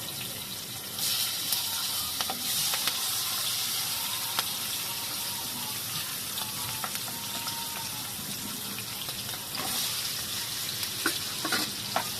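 A big batch of onions frying in a pan for egg curry, giving a steady bright sizzle with occasional stir scrapes and a faint watery hiss, close and continuous, no talking.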